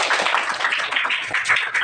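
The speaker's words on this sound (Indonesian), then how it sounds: "beri tepuk tangan untuk kita semua" A classroom group claps together in a quick, dense patter of many hands, close and continuous for a couple of seconds.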